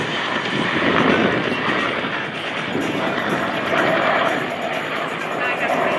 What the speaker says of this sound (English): You're now witnessing combat veteran enablers flying actual combat aircraft.